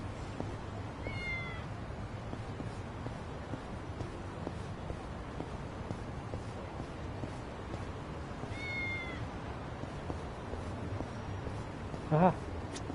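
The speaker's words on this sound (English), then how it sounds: "Cat that likes to wander." A wandering cat in Yakuza: Like a Dragon gives two short, faint meows a few seconds apart over a low game background hum, with a brief louder sound near the end.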